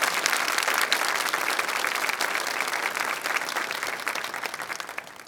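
Congregation in a Catholic church applauding, a dense, steady wash of many hands clapping for about five seconds, fairly close and filling the space, tapering slightly toward the end.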